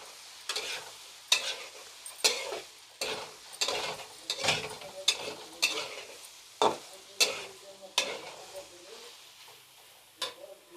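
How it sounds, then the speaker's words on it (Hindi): Soybean curry masala being stirred and fried over a high flame, a spoon scraping the pan in repeated rhythmic strokes about once a second over a soft background sizzle, close and clear with no talk. "इसको हल्का ब्राउन होने तक भून लेंगे।"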